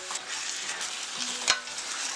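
Beef in a pot is stirred over heat, a sizzling hiss broken by soft scraping strokes and one sharp clink near the middle, with no voices.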